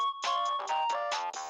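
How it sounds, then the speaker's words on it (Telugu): A phone ringtone plays alone, a bright electronic melody of repeated tonal bursts in quick succession, close and clear. "Wiki phone."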